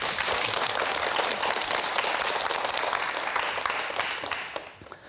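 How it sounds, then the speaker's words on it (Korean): A studio audience at a televised health lecture applauds warmly for about five seconds. The dense, continuous clapping fades slightly at the end, and no voices are heard. "박수로 한번 좀 맞이해 볼까요?"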